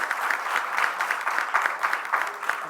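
Seminar attendees in a hall applaud steadily for a few seconds, a close, moderately loud patter of many hands with no voices over it.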